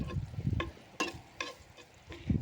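Bacon fries in a pan that still holds egg remnants, a soft close sizzle with a few sharp crackling pops spread irregularly across the moment.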